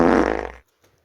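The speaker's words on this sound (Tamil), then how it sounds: "வாயு குடலில் இருந்து மலக்குடல் வழியாக வெளியேறுகிறது இது குசு என்பதாகும்" A single loud, close fart rasps out for about half a second with a buzzing, vibrating tone, then stops abruptly into near silence.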